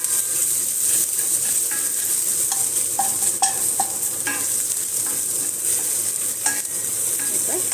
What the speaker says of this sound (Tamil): இந்த வெங்காயம், கருவேப்பிலை, பச்சை மிளகாய். இப்போ இது கொஞ்சம் வெங்காயம் வதங்கிடுச்சு.